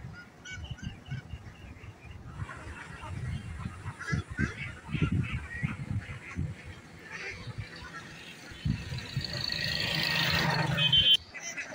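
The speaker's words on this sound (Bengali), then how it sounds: "সেই ঘেরের ভিতরে হাঁসগুলো চড়ে বেড়াচ্ছিল" Ducks at a duck farm in Chuadanga, among rice fields, honk and quack in a dense, continuous flock chorus, with loud bursts rising and falling and a steady background din throughout.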